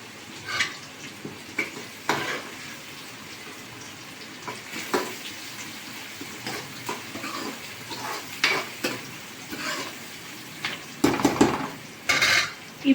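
Okra pieces fry in a pan with onions, heard as a light background sizzle punctuated by repeated clanks and scrapes of a metal ladle against the pan, close and without talk.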